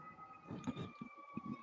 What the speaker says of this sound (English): pardon the sirens outside